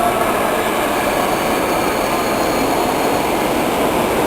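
A train rumbles past close by at Berlin Friedrichstrasse station, a loud steady roar of wheels on rails with a faint high metallic whine running through it.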